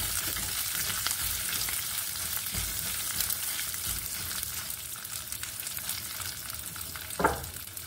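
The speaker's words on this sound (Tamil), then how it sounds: "பூண்டு சேர்த்தோடனே அக்கறுத்தாப்புல மக்கள் சேர்த்துக்கிடலாம். வரமிளகாய் சேர்த்துக்கோங்க." Dried red chillies and garlic frying in hot oil, giving a steady close crackling sizzle throughout, with an occasional clink of a spoon against the pan.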